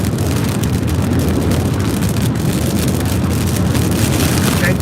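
Rain and road noise fill a car driving through a storm near a tornado in Texas, a loud, steady wash of drumming drops and rumble with no break.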